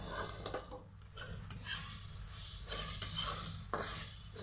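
Poha, flattened rice with onion for Mumbai-style kanda poha, stirred in a pan with a steady scraping and a soft sizzle, close and fairly quiet, with a few sharper utensil knocks and no talking.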